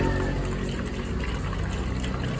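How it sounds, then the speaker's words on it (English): Water pours steadily into a spray bottle holding a diluted sachet solution for spraying hot pepper plants, a continuous close gurgling fill lasting a couple of seconds with no talk over it. "We'll add more water."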